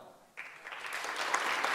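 Applause from an audience at the opening of an official sports event starts abruptly after a quiet moment and swells into a steady, dense wash of clapping, moderately distant.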